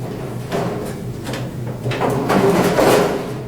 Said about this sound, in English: Close our door and latch it as normal.